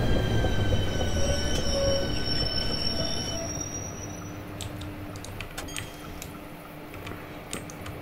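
A train in Train Simulator 2019 squeals and hisses as it brakes into a station, the high metallic screech fading over several seconds, followed by faint clicks and rattles.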